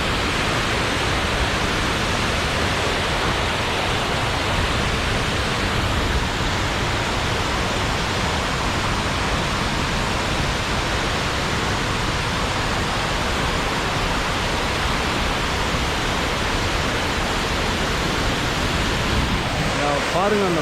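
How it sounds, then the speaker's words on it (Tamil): Punnayar waterfall in Kerala pours with a loud, unbroken broadband roar, heard up close and steady from start to finish. "பாருங்கள் அந்த வாட்டர் ஃபாலோட அழகா"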